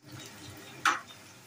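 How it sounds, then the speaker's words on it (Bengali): Pointed gourd (potol) pieces fry in oil in a pan, giving a faint, even sizzle broken by one sharp scrape or clink of stirring. "পটলটা এইভাবে লাল করে ভাজতে হবে"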